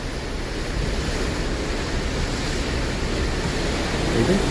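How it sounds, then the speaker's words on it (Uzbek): Steady rushing of sea water and wind around a moving vessel, a continuous broad wash of wave noise with no voices. "To'lqinlanyapti, lekin mana paraxodimiz chaypalgani yo'q."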